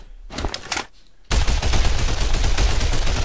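Gunfire from weapons in an Unreal Engine 4 shooter: a couple of sharp shots, a brief lull, then a loud sustained burst of rapid automatic fire.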